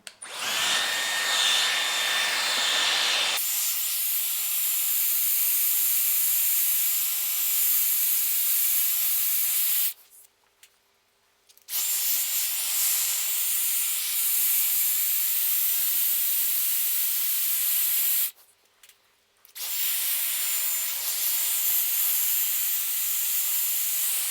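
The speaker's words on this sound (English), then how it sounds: "this Dyson Airwrap really works with airflow" A Dyson Airwrap hair styler blows a loud, steady airy whoosh in three long runs, switching off briefly twice between them, with no talking.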